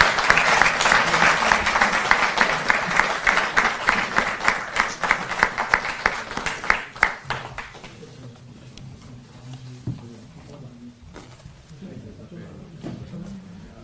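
Loud, dense applause from a large crowd fills the first half, then fades out into quieter room noise and scattered sounds.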